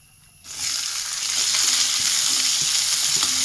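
Onions dropped into hot oil with mustard seeds, cumin and dried red chillies for rasam: a sudden loud burst of sizzling after a short quiet start, then a dense, steady hiss and crackle close by.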